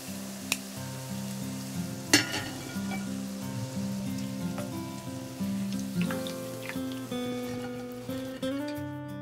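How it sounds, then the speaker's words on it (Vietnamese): Chicken deep frying in hot oil until golden, sizzling and crackling with irregular pops and a steady frying hiss beneath a low tonal hum. "Chiên cho đến khi thịt gà vàng giòn như thế này là được"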